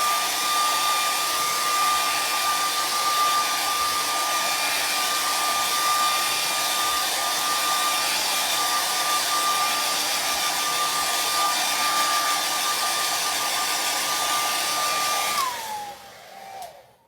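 A hair dryer blows steadily and loudly, drying a chalk transfer for a craft project, its even whoosh and faint whine holding for about fifteen seconds before it switches off and winds down.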